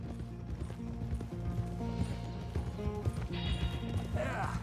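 Horse hooves clip-clop while arriving at the stables in Red Dead Redemption 2, a steady rhythmic patter under game music and ambience, with a voice talking over it.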